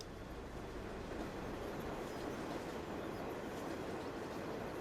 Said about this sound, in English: oh, there's the train right there